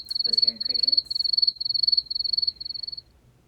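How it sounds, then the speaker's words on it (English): A single cricket chirps close and clear in rapid trilled pulses, repeating about six times in a steady rhythm before stopping, with a brief murmur of voices under the opening. "was hearing crickets"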